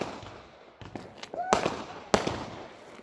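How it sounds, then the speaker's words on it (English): Guy Fawkes night fireworks go off in a quick series of sharp outdoor bangs and crackles, several loud close bursts following one another, with faint voices in the background. "Why couldn't you have gotten fireworks like that, actually?"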